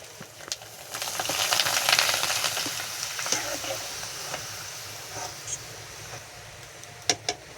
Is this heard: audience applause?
no